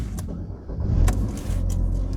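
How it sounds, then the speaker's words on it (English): A 2010-2016 Chevrolet Equinox with engine misfire codes starts up: a short cranking burst, then the engine catching into a steady, loud idle rumble, heard up close with no talk. "let me start the car now"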